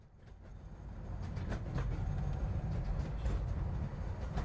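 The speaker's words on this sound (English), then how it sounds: "The old train started to rumble and shake under his feet as it slowed down before it came to a screeching halt at the station of Sector 1." An old train rumbles steadily and grows louder as it slows, with a broad low roar and faint rattling of the cars building toward a halt.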